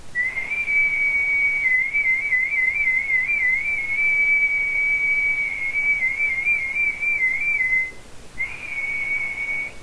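A single person whistles a long, steady high note that wavers slightly, pauses briefly, then resumes, with no talking.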